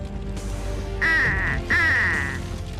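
Cartoon ducks quack twice amid a fire scene in an animated Transformers: Robots in Disguise episode, two loud, drawn-out nasal quacks over a steady rumbling background.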